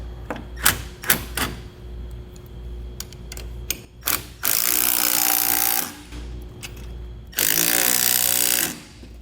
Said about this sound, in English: So now we can go back and snug our bolts up that we had left loose.